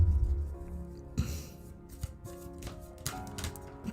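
Deck of cards shuffled for a card reading, giving close, papery riffling bursts and soft clicks in uneven clusters over a faint low hum.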